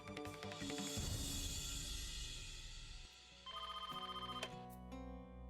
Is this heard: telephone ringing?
yes